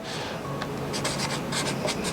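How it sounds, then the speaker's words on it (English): A pen scratches across a paper resume as a full name is written out by hand, short close strokes in quick bursts, faint and alone. "you're going to write your full name on the resume"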